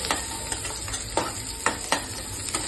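Onion fries in a tempering of mustard seeds and urad dal in a hot pan, a close crackling sizzle cut by several sharp spatula strikes as it is stirred.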